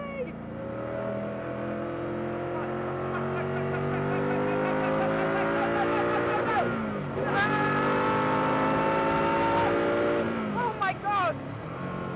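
A Koenigsegg CCXR Edition running on ethanol revs hard nearby, its engine climbing and falling in steady harmonic sweeps with sharp throttle blips, while an excited voice exclaims over it.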